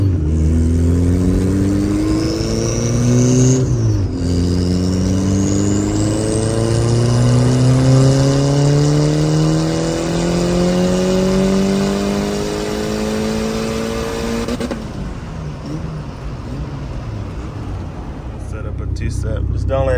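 Tuned Honda B18B1 car engine on full boost in third gear, loud rising wail climbing steadily for several seconds, a shift break, then another long pull upward before easing off, with voices talking underneath.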